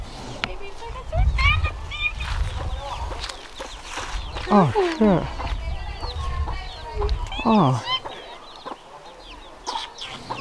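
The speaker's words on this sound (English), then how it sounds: "Oh, look at the baby chickens." Baby chickens cluck and peep in a rural yard in the Dominican Republic, several chirping and clucking bursts close by and fairly loud, mixed with people talking and exclaiming over them.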